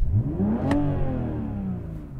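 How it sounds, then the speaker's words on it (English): A BMW M4 engine revs up sharply and then eases off, its pitch sweeping up before settling, heard loud and close with a brief mechanical whir and no talk. "So I'm going to rev up this car."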